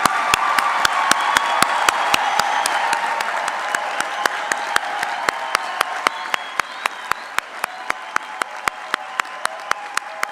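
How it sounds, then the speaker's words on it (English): An audience at a university spring graduation ceremony applauds the graduates, a dense, sustained round of clapping that thins toward the end into sharp, separate claps. "let's give our graduates a round of applause for their hard work and perseverance"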